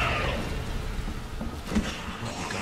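Rain falls in the video game Resident Evil 2 as a steady, dense hiss with faint low rumbles underneath, continuous throughout.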